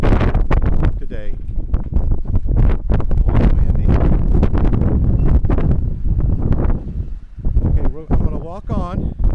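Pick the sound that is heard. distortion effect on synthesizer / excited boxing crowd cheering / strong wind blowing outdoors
strong wind blowing outdoors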